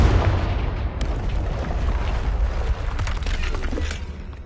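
A Confringo blasting spell explosion in Hogwarts Legacy, a loud, close rumbling blast with shattering debris and crackling pops that continue throughout.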